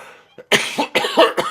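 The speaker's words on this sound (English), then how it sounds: "The coughing starts early." A run of four or five harsh, loud coughs in quick succession, close up, after a brief quiet moment.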